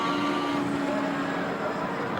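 A race car with a twin-chamber Wankel rotary engine revs hard at a 1983 touring car race at Surfers Paradise Raceway, a steady high-pitched whirring drone that holds level throughout.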